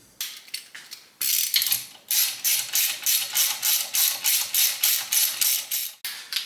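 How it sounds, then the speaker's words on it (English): A torque wrench ratchets steadily as it tightens Loctite-treated engine bolts on a big-bore Twin Cam being built for a 1987 Harley-Davidson FXRS-SP, sounding as a loud, close run of rapid rhythmic clicking bursts with brief pauses. "now we're going to torque the bolts to 22 foot-pounds"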